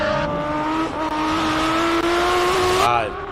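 A race car climbs the Simola Hillclimb course with a steady, loud engine note that rises gradually in pitch, then drops sharply near the end, as if for a gear change or braking, while a commentator talks over it.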